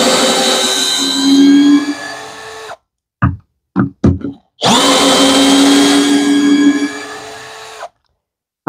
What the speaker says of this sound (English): very happy with the drill thus far.